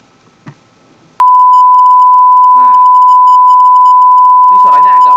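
A pure 1000 Hz sine tone generated in MATLAB switches on abruptly and holds loud and perfectly steady for about four seconds, while someone speaks briefly over it.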